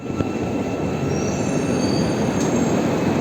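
A train rolls past on a railway in Turkey, making a steady, loud, close rumble with faint squealing wheels and a high metallic whine, and no one speaks.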